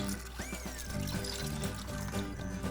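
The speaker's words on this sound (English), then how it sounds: "I'm going to be soaking in the chana dal with fresh water for about 1 to 2 hours." Fresh water poured into a bowl of chana dal for soaking, a steady close trickle and splash running the whole time under a faint background tone.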